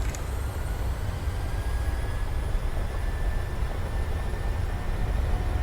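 Boeing 737 jet engines spool up toward takeoff thrust, a steady, loud low roar with a faint high whine that holds evenly throughout.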